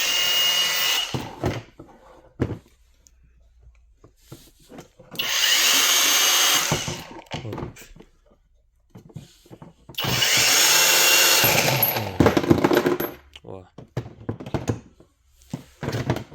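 A Makita angle grinder with adjustable speed, from a 5-in-1 tool set, runs in two loud sustained bursts of high-pitched whirring, separated by quieter stretches of handling clatter and knocks.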